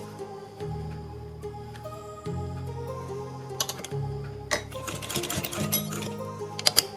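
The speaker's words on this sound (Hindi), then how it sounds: "पहले यहाँ पर इस तरह से सिलाई लगाएंगे" Sewing machine stitching around a kurti neck design, a steady low mechanical whir running in bursts with short pauses and clicks as the fabric is turned at corners, fairly quiet and close.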